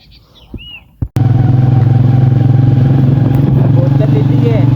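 Scooter ride on a rural road: after a brief quiet moment with birdsong and a sharp knock, a steady loud engine drone with wind rumble takes over and continues, birds chirping faintly behind.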